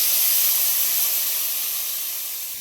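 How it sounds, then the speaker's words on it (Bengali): Water poured into hot frying masala sets off a steady, loud, broadband sizzle that slowly fades over a couple of seconds, with no talking. "মশলাটা একটু কষা কষা হয়ে যাওয়ার পর জল দিয়ে দিলাম।"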